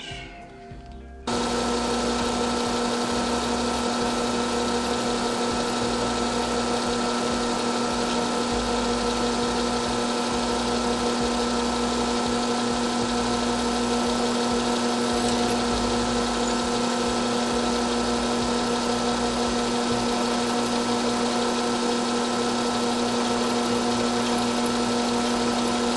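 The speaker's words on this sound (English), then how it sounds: "We'll take that over to the drill press and we'll drill a hole in it." A drill press runs steadily while drilling a hole in brass, a constant motor hum with a strong steady tone that starts abruptly after a second and continues unbroken, close and fairly loud.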